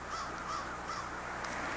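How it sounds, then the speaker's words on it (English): Crows cawing as a huge flock swarms into roosts, several harsh repeated caws overlapping in a loud, dense chorus over a constant background din. "the constant racket as the birds swarmed into their roosts each night"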